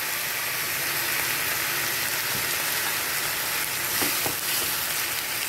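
Onions fry in oil with ginger-garlic paste, crackling in an even, close sizzle, with a few soft knocks of stirring near the end and no voices.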